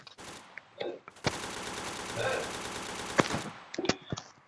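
Rapid bursts of loud shotgun fire in a video game crackle in a dense, sustained stretch, broken by a few sharper single blasts and brief voices near the start and end.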